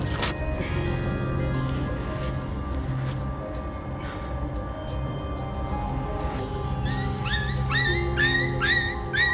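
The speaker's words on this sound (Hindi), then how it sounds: "कुत्ता एक तरफ रो रहा है" A dog whimpers in a few short, rising whines toward the end, over a steady outdoor din of insects and background noise in a forest at night.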